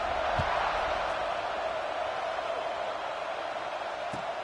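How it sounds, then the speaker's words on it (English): A football stadium crowd before a kickoff, heard as a steady, dense buzz of many distant voices that holds evenly throughout, with a couple of faint thumps. "this crowd is buzzing after that last score"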